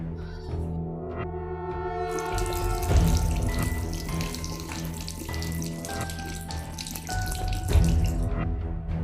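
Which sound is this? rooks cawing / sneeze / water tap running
water tap running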